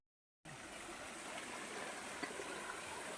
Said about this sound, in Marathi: वॉटरफॉल छोटसो धब धबा नेचर शूटिंग